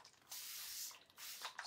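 A spray bottle mists paint on a craft project in two short hissing bursts, close and fairly quiet, with a brief pause between them.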